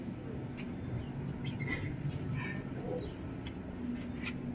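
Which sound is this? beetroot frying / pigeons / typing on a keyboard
pigeons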